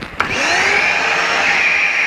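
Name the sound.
hoover vacuum cleaner switched on for dust extraction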